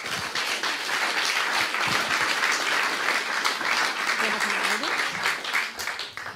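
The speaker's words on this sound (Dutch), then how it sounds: "Mag ik een warm applaus voor Thomas?" Warm applause from a literary gathering audience rolls on steadily, many hands clapping at moderate loudness, with a voice briefly audible beneath the clapping near the end.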